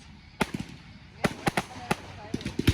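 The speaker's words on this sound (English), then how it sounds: "How is there that many fireworks in those things?" Fireworks bursting during a Fourth of July show in Madison, Wisconsin: a string of sharp, crackling booms arrives in irregular clusters, some close together, over a low murmur of the crowd.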